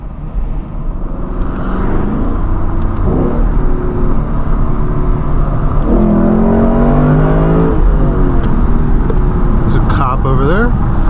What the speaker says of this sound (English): it is just a thing of beauty to hear this car downshift